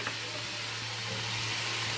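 Lentil dumplings (bori) drop into a sizzling vegetable curry in a pan, giving a steady, moderately loud frying hiss that runs evenly throughout with a constant low hum beneath and no talking.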